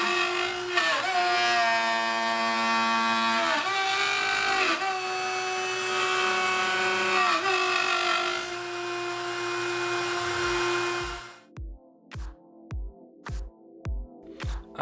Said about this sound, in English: So I'm cutting two identical files here. These are both out of the same exact piece of white ash.